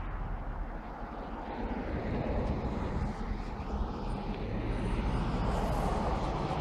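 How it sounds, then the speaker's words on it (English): Vehicles passing on a quiet country road, a broad engine and tyre roar swelling and holding fairly close, with a steady low rumble throughout and no speech. "yet there's heaps of traffic just because I'm filming"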